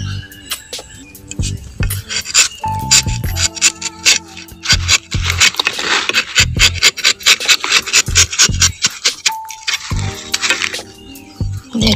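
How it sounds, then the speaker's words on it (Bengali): A tree being cut by hand, with rhythmic rasping saw-like strokes against wood that repeat steadily, loud and close, with brief pauses between runs of strokes. "দেখো গাছ কাটছি এক হাতে।"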